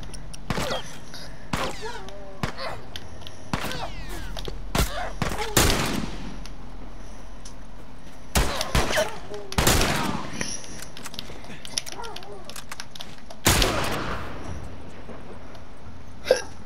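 Enemy gunfire in The Last of Us, scattered loud single shots cracking out at irregular intervals with quieter gaps between them and some talk underneath.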